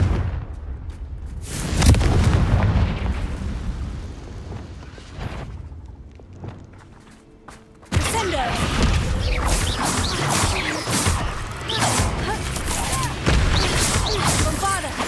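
A Confringo blast spell exploding in the Hogwarts Legacy video game inside a cave maze, a loud burst followed by more spell impacts and crashes, with a voice casting incantations.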